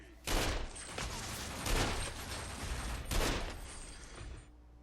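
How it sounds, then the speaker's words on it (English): Hand cannon fire in the Sunset Overdrive video game: three loud, heavy shots roughly 1.5 seconds apart over a dense, busy game soundscape. "Using this hand cannon to send punk-ass enemies to the grave."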